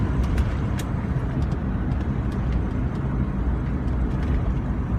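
Car engine settling down to idle after the throttle is released, a steady low rumble close by with no talking.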